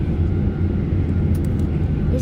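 A steady, low engine drone fills an airplane cabin during flight, constant and fairly loud, with faint clicks near the end.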